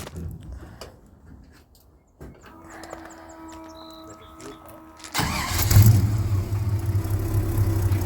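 A 1966 Chevy C10 pickup with a newly fitted exhaust cranks and fires up in a shop, settling into a deep, rumbling idle that grows louder and fuller after a quieter stretch of starter noise.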